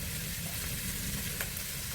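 Ground meat topping sautéed with garlic, onion, pepper and fish sauce for pancit palabok sizzles steadily in a pan with soft stirring scrapes, close and continuous.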